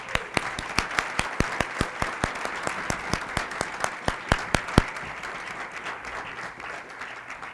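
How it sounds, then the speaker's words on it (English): An audience at a climate commitment signing event applauds, a steady wash of many hands with sharper individual claps standing out near the front, fading gradually toward the end. "let's give them a round of applause, please"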